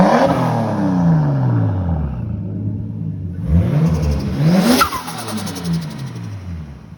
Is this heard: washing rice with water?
no